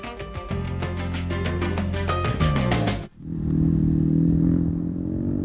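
KTM rally motorcycles race on a Dakar Rally stage in 2003, their engines droning loud and close with rising revs, then a brief dip before a deeper, steady roar resumes.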